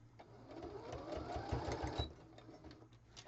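A sewing machine runs steadily close by while it stitches a squiggly seam on a rag-style kitchen scarf boa. Its motor hums with a rapid mechanical chatter that swells slightly partway through.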